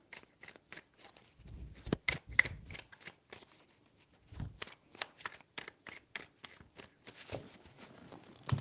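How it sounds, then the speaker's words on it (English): Tarot cards being shuffled make a quick run of crisp, close flicks and snaps, steady and rhythmic, with a few heavier riffles along the way. "3 shuffles."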